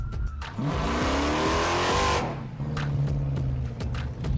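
A powerful off-road-built Hellcat car engine roars and revs up loudly with tire squeal, then settles into a rumbling idle with a few short clicks nearby.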